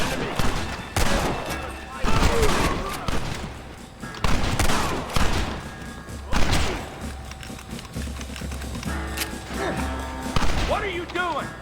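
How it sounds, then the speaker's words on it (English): Shootout gunfire in the Western game Red Dead Redemption, with repeated bursts of shots and heavy thumps rising and falling across the scene, mixed with shouting voices and background game sound. "Shoot them!"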